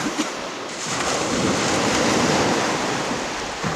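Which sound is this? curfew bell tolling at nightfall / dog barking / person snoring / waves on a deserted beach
waves on a deserted beach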